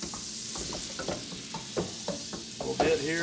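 Four tablespoons of butter melting and sizzling in a pan for Salisbury steak gravy, a steady frying hiss broken by regular scraping stirs, while a person speaks briefly.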